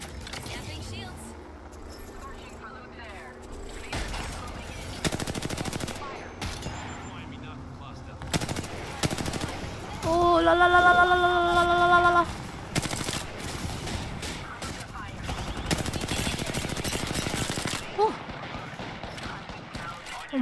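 Apex Legends gunfire, repeated rapid automatic bursts and single shots at varying distance, mixed with game effects and a short rising electronic chime, with a person talking over much of it.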